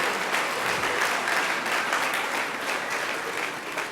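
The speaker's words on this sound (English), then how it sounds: "let's give a round of applause for our students that received the Academic Achievement Award" Steady, dense applause from a large audience at an elementary school graduation ceremony, sustained at an even level throughout with no talk over it.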